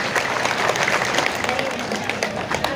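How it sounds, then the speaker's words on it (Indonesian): A crowd of villagers in Nagari Salayo claps at a political speech, a dense, steady wash of applause lasting throughout with voices mixed in. "Tepuk tangan untuk masyarakat kita."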